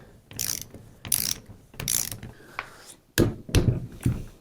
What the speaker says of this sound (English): And we're tightening this down to 18 pound-feet.